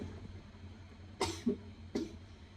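Two short, sharp coughs about a second apart, close by against a quiet room hum.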